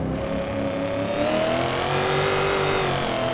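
A Ford Mustang Boss 302 race car engine revs high and steady in Assetto Corsa, its pitch climbing gradually as it accelerates, loud and close with no voices.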